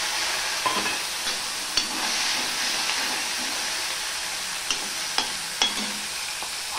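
Chopped green chilies and about one and a half spoons of ginger fry in a pan with a steady loud sizzle, broken by occasional scraping stirs of a spatula.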